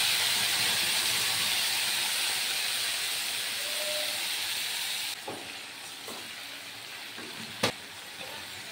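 Spice paste sizzling and hissing in hot oil with cardamom for a cabbage dish, a steady loud fry that softens partway through, with a few clicks and stirring knocks near the end.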